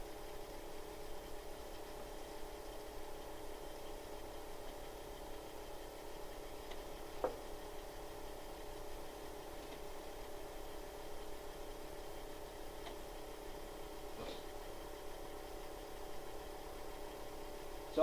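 Philips reel-to-reel tape recorder running on fast forward after a belt repair, giving a steady, faint mechanical whir and hum with a few light clicks, no one talking.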